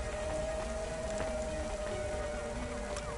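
Steady rain hiss from the video game Cloudpunk, a dense even patter that fills the whole moment with no talk, a faint tonal hum running underneath.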